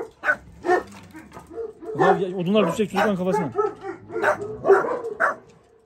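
A dog yips and barks several times in short bursts close by, mixed in with excited voices of people talking over and between the barks.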